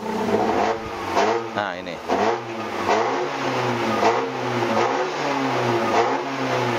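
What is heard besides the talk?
2002 Chevrolet Blazer Sport engine revving, accelerating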